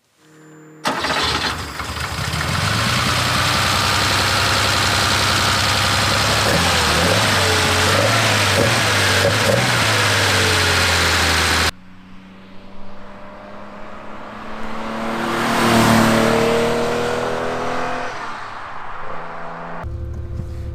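A Porsche 911 cabriolet engine fires up and holds a loud, steady high rev for several seconds, then cuts off. A car then sweeps past at close range, swelling and fading in a clear flyby, with no talking.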